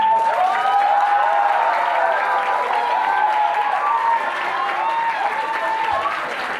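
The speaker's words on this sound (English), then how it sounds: "And a round of applause, team three." Sustained crowd applause greets a team stepping onto a stage at an emcee-led contest, loud and even from start to finish, with a faint tonal music bed underneath.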